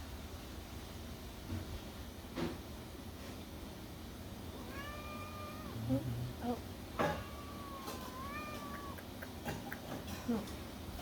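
A kitten meows several times during an ear exam at a veterinary technician training session, short rising cries spread across the stretch with soft handling noise, faint and close, and a person briefly speaks.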